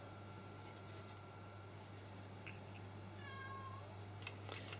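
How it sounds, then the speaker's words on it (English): A faint, distant meow rises and falls once over a steady background hum, with a couple of tiny chirps before it. "If you can hear a cat meowing,"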